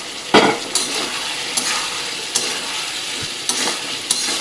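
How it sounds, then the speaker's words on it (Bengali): Ridge gourd and potatoes are sautéed in a pan, giving a steady close sizzle broken by several sharp spatula scrapes and stirs at irregular intervals, with no voices. "এই পর্যায়ে আমি ঝিঙেটা যে হালকা ভেজে রেখেছি সেটাকে দিয়ে আবার কষিয়ে নেব"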